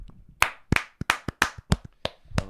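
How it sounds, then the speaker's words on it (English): Slow, separate claps from a small audience, about nine sharp hand claps in an uneven rhythm, close and distinct with silence between them. "Can I get a clap,"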